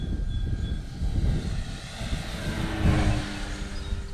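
A red HobbyKing Big Stearman RC biplane makes a low pass on a breezy day, its motor and propeller drone swelling steadily louder as it comes near, then easing off, with no talk over it.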